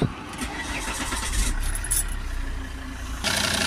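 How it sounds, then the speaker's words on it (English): A Volvo XC90 2.4 D5 diesel engine cranks briefly and catches, then settles into a steady mid-pitched idle with a slight rev, heard close up in a workshop without talk. "now we're going to start the engine back up"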